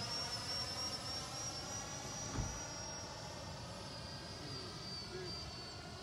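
A Freewing 90mm F-22 RC jet flies overhead at sunset, its ducted-fan whine held as a steady high tone over a soft airy hiss, fairly distant, with faint talk nearby.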